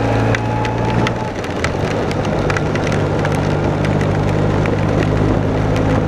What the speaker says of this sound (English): In the weather report, this rain wasn't predicted.